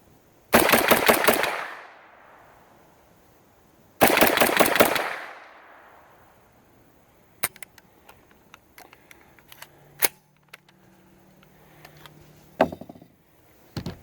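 Two bursts of rapid automatic fire from a short-barreled rifle, each lasting about a second, loud and close with a ringing tail, followed by scattered faint clicks and handling noises.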